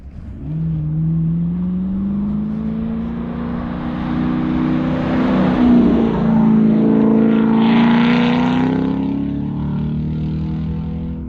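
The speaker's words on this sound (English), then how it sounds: "That car sounds good too." A Chevrolet Camaro SS 1LE on a track approaches and roars past, its engine note climbing steadily as it accelerates, loud and close, then shifting pitch as it passes.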